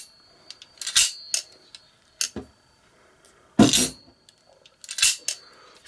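M14 rifle operating rod clanking as the rifle is drop-tested, several separate sharp metallic knocks and rattles with quiet gaps between them, close by.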